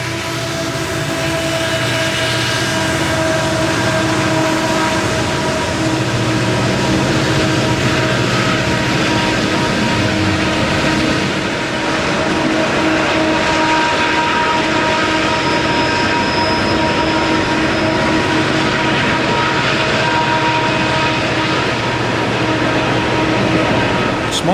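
A container train from Morrisville, Pennsylvania rolls out of the 3,600-foot Allegheny Tunnel, a loud, steady rumble and grinding of wheels on rail sustained throughout with a faint high whine, heard fairly close.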